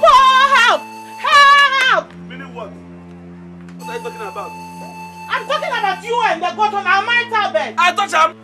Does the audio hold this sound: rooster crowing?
no